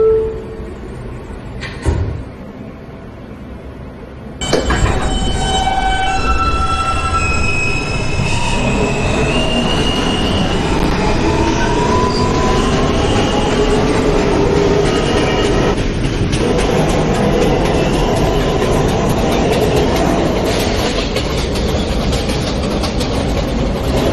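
A Manhattan-bound J local subway train starts after a quiet opening and runs loudly, its rumbling wheels joined by rising, wavering squeals and whines that persist to the end.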